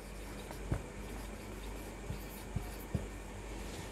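Chalk or marker strokes on a board while a geometry problem about circle angles is worked out, heard as a few faint, sparse taps and scratches over a quiet room hum.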